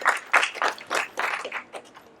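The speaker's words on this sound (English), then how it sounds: "So let's give them a round of applause." A small audience claps for city council members at a gathering in support of a homelessness measure, with about eight distinct, fairly close hand claps spread over two seconds that fade toward the end.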